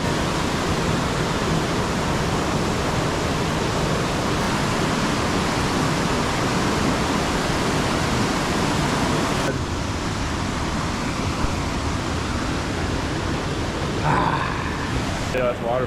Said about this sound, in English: Yeah, that's waterfall.